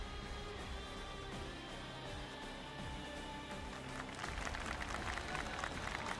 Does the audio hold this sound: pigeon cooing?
no